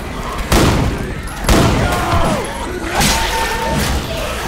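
Bursts of gunfire in the zombie shooter Left 4 Dead 2, several loud sharp volleys and booms in quick succession, with players' voices and game chatter mixed in between shots.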